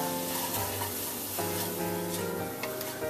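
Leeks sauté over low heat in a pan, giving a steady, continuous sizzle with faint stirring scrapes throughout and no talking.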